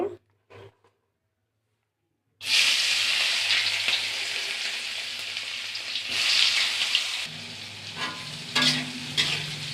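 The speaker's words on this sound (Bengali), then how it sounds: "এখন এই তেলের মধ্যে আমি বিনস আর গাজর ভেজে নেব" Beans and carrots fry in hot oil with a loud, steady sizzle that starts abruptly after a quiet opening and continues with occasional stirring scrapes.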